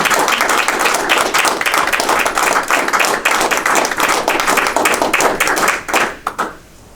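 An audience at a sheriff's office awards ceremony applauds the recipients with dense, steady clapping that holds loudly for several seconds, then thins to a few last claps and fades out.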